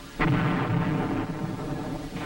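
Artillery fire from U.S. batteries in Vietnam's Central Highlands: a heavy boom bursts in just after the start and rolls into a sustained rumbling barrage, with another blast near the end.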